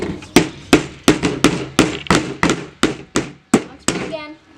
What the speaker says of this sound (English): Hammering in the wrong spot.